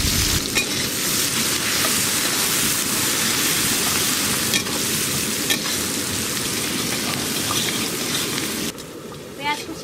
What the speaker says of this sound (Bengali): পেঁয়াজ কুচিগুলো একটু হালকা করে ভেজে নিয়েছি